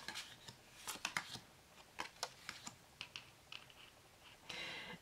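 Tarot cards being handled and drawn for a horoscope reading make a quiet, close series of crisp clicks, flicks and light slaps in irregular bursts, ending in a brief rustle with no voices.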